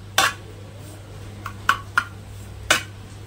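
A spoon scrapes and clinks against a pan while a bread crumb mixture is stirred, a few sharp separate knocks spaced over a quiet, steady background hum.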